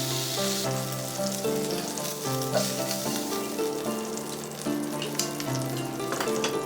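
Sausages fry in a pan with a loud, steady sizzle and crackle throughout, while soft music plays underneath and no one speaks.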